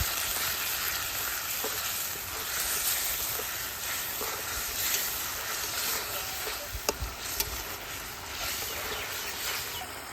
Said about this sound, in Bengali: হলুদের গুঁড়া মরিচের গুঁড়া ধনিয়ার গুঁড়া স্বাদ মতো লবণ মশলাটা ভালো করে কষে নিই